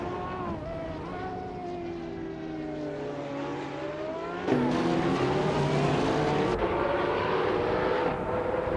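A 2009 BMW 134 Judd race car in a racing video game, its engine whining steadily with rising and falling pitch as gears change, growing louder and harsher partway through, with other cars droning alongside.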